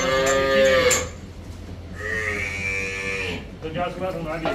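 Punjab-type Jersey cow on a dairy farm mooing twice, a loud, close, drawn-out low call followed after a pause by a second, longer moo, with faint farm background between.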